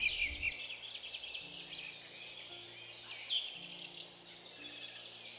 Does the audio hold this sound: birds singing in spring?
yes